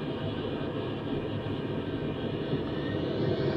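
Jet engine of an F/A-18 fighter in a flight game, approaching a carrier landing on the CVN 74, a steady broadband roar that holds loud and even throughout, swelling slightly toward the end.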